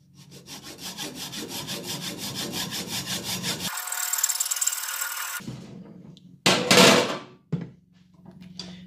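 A damaged aluminium ski pole with PVC coating is sawn through by hand, steady rhythmic back-and-forth strokes running several seconds, then a brief harsher burst and a few scraping knocks as the cut finishes, close and fairly loud.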